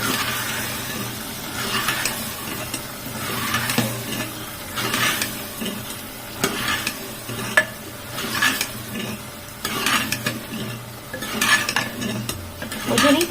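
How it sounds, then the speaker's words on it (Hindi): A spoon stirs a dish in a pan after garam masala powder is added, giving repeated scraping strokes in a steady rhythm over a soft sizzle, close and fairly quiet. "अब मैं इसमें ऐड करूंगी थोड़ा सा गरम मसाला पाउडर। वापस से इसे चलाऊंगी।"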